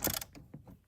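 A screwdriver working a Phillips screw on a Chrysler Intrepid headlight switch, a brief close run of small clicking, ratcheting turns alone.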